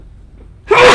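A short, sharp sneeze bursts out after a brief quiet moment, loud and close.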